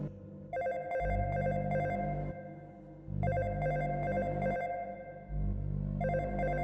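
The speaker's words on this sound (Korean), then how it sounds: "휴대전화 벨소리가 어디선가 들려온다" A mobile phone ringtone plays in a repeating melodic pattern, fairly loud and steady, pausing briefly between rings, with no voices over it.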